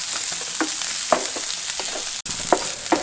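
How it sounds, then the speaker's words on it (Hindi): Two small chopped onions fry in a hot pan with a steady, bright sizzle, broken by a few spatula stirs and scrapes and one sharp clack near the middle. "ये 2 अनियन है छोटे छोटे, जिन्हें मैंने चॉप किया था, और ये फटाफट से उसमें फ्राई कर देते हैं।"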